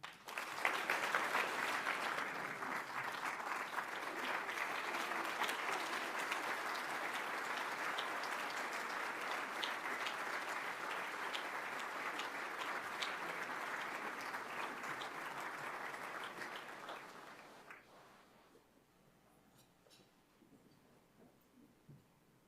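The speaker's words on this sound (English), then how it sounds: "please join me in another round of applause for all of our faculty and staff award winners tonight" Audience applause at a community colleges awards dinner and celebration, a sustained room-filling round of clapping that holds steady for about seventeen seconds, then quickly dies away to a quiet murmur.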